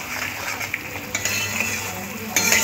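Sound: fried prawns being stirred into masala

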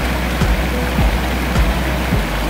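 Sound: waterfall cascade of the Aló stream

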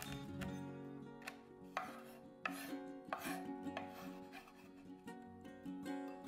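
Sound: chopping arbol chilies with knife

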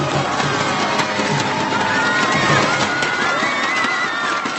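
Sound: audience applause and cheering at StarCraft awards ceremony

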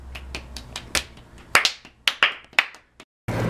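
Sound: people clapping

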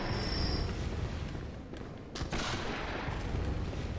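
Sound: sniper gunshot in the video game Bloodborne

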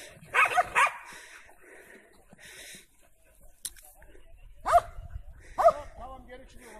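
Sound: dog barking

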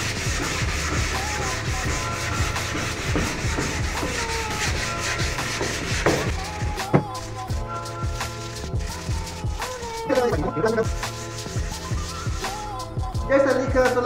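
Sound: hand sanding wood along the grain with sandpaper

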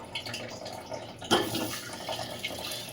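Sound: water dripping into a bucket

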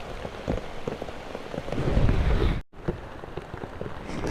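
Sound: rain falling, easing off

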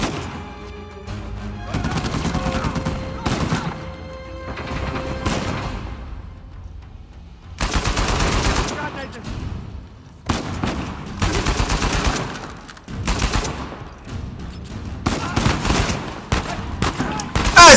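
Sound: gunfire in the video game Uncharted 4

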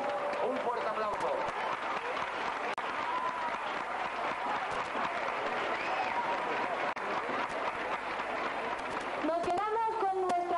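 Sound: audience applause at carnival queen election

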